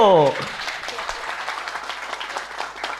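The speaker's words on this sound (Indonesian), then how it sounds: "Mantap, tepuk tangan dulu." A crowd breaks into applause after a brief sung or spoken note, steady clapping continuing at moderate loudness throughout.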